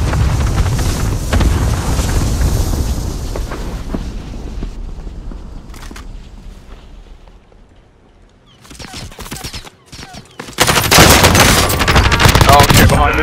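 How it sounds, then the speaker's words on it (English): Heavy automatic gunfire in Call of Duty: Modern Warfare, loud bursts in a battlefield soundscape, easing into a quieter stretch with scattered shots before a final loud burst of fire. "I just got shot from behind, from west somewhere."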